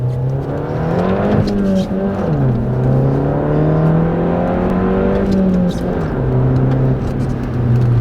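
A car engine with a failing clutch, at 27,000 miles, revs loudly up and down close by, its pitch rising and falling in uneven surges with a whirring mechanical strain.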